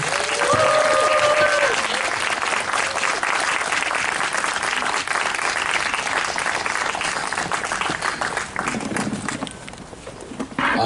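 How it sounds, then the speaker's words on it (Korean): A concert audience at a talk-show style event in Cheongju claps warmly, with sustained, dense applause that stays loud throughout and tapers slightly near the end. "여러분, 네, 따뜻한 박수."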